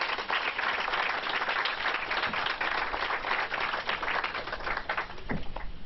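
An audience claps at a high school ribbon cutting ceremony, a steady, fairly loud wash of applause lasting several seconds with no talking over it.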